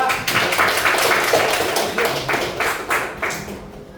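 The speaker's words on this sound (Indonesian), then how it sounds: "Tepuk tangan untuk kelompok 2." A classroom group claps for a presenting team, a run of brisk, fairly close hand claps in loose rhythmic bursts that fade out toward the end.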